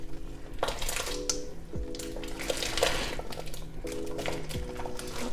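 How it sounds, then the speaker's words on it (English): Lima beans being added into a simmering pot with ham, with soft clinks and scraping clatter of a utensil against the pot over a quiet bubbling simmer, no talking. "I'm going to go ahead and add in the beans at this point."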